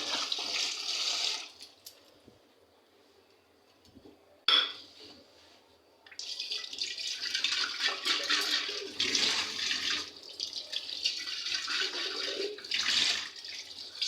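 Water runs while potted plants are washed: a loud splashing gush, then a quiet pause broken by a sharp clank, before the flow resumes in uneven surges.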